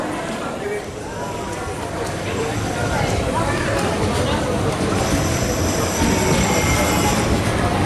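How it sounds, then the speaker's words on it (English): A train rolls into a station in Ireland with a continuous rumble of wheels on rails, growing slightly louder, with faint squeals and indistinct voices nearby. "there's actually a train from, I think, Rosalie coming in"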